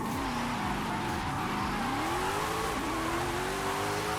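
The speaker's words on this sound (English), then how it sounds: "you can hear the sequential shifting in this car" A Nissan 370Z drift car in the Forza Horizon 5 racing game roars continuously as it drifts, with engine pitch sweeping up and dropping at sequential gear shifts, loud and dense with tire noise and no talking.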